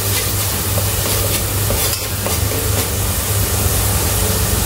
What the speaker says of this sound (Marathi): आता आपल्याला कांदा तळून घ्यायचा आहे।